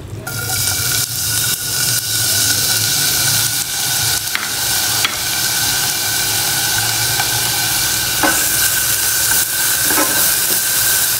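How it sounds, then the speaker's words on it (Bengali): Onions frying in hot oil in a pan, a loud, continuous hissing sizzle with occasional faint stirring clicks, no voices. "তেল গরম হয়ে গিয়েছে। এবার পেঁয়াজ দিয়ে দিব।"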